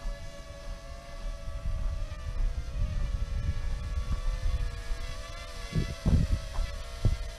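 A small DJI Ryze Tello drone flies close by in gusty outdoor wind, its thin high propeller whine holding steady over continuous rumbling wind buffeting, with a few louder gust thumps near the end.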